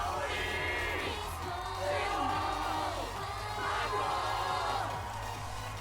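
A video game crowd cheers at a concert, with scattered whoops and yells swelling and fading in a faint, distant wash of voices.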